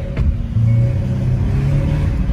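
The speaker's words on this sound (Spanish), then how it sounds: "El motor, señores, definitivamente que se oye poderoso." A 2021 Hyundai Sonata engine rumbles low and steady, rising slightly in pitch as it revs, close and fairly loud, with no voices.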